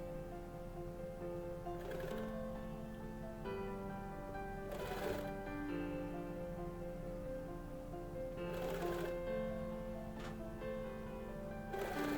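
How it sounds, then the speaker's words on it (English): A sewing machine runs in steady stitching bursts, joining the inside and outside layers of a kid's jacket made from a blanket along the bottom edge, with short pauses between passes against a constant background hum. "And then we sew the inside layer and outside layer together on the bottom."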